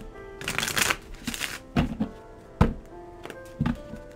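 Tarot cards shuffled by hand for a one-card pull, giving several bursts of riffling and sliding card noise with soft taps and thunks between them, close and fairly quiet with no talking.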